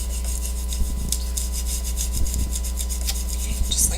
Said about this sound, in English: We're just going to go ahead and burnish that in.